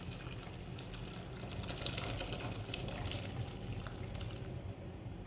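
Steady running water pours continuously into a pan of white chickpea curry, a broad hiss with a slightly louder stretch in the middle, heard alone without voices.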